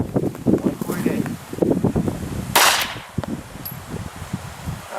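A squib load with a reduced 1.8-gram charge fired from a blowback pistol outdoors, heard as a single sharp pop midway through amid wind rustle and low background murmur.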